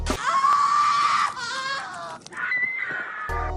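A woman with rainbow-colored hair screams in a long, loud, wavering cry that breaks off and then rises again in a higher, strained shriek, close and continuous through most of the moment.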